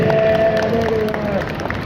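A convention audience at a makeup-industry panel in New York claps and cheers for panel guests, a dense wash of applause with a voice talking over it.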